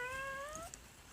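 A house cat gives a single short, rising meow close by, then quiet room tone follows.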